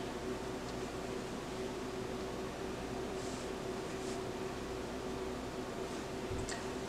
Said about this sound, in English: And I'm going to sew till about here.